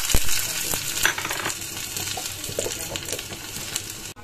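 Onions frying in hot desi ghee for a kadhi pakoda tadka, a continuous dense sizzle and crackle with occasional stirring clinks, close and unbroken, no talk.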